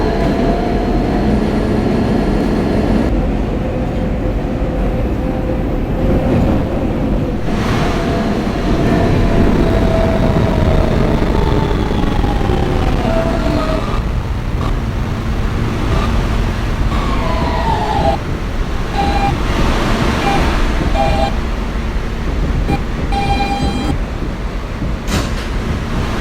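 An R160B Siemens subway car runs on a Brooklyn-bound W local line, with a steady loud rumble of wheels on track and rising and falling motor whine throughout.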